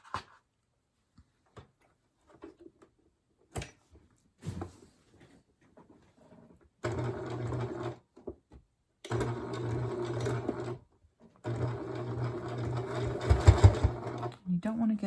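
A sewing machine stitches around the edge of a homemade three-layer fabric face mask in long steady runs, pausing between bursts, close and loud, with a few small handling clicks and taps during the quiet gaps.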